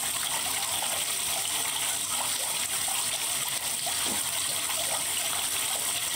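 Water rushes and splashes continuously at a steady volume, like a shower running close by, with no voices.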